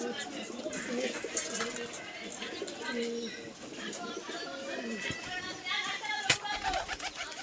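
Madrasi breeding-pair pigeons on a large rooftop loft coo steadily nearby, with occasional wing flutters, while people talk over them.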